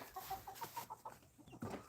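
A chicken clucks in a quick series of short, rhythmic notes close by, followed by a slightly louder cluck at the end, with little else around it.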